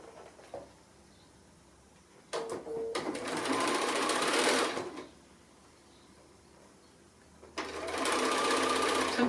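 A home sewing machine with a quarter-inch presser foot stitches a quilt block seam in two steady whirring runs, each a few seconds long, separated by a quiet pause with light handling sounds.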